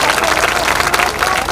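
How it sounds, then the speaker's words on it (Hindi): An audience claps loudly in a steady, dense burst to welcome a guest at a public gathering. The clapping is close and sustained throughout, with a faint crowd murmur beneath it. "जोरदार ताली बजा करके उनका स्वागत करिए"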